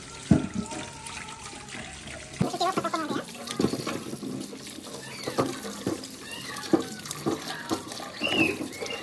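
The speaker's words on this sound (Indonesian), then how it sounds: "kita cuci dulu" Red belimbing fruit rinsed under running water, a continuous splashing gush with spattering bursts as the fruit is handled, close and fairly loud.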